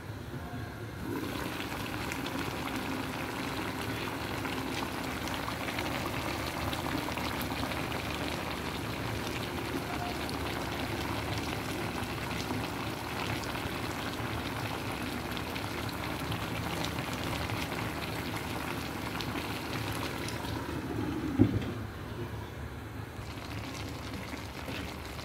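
Paksiw fish and shrimp with asparagus simmering in a covered pot, a steady soft bubbling hiss that holds evenly for the whole stretch, with one brief clink near the end.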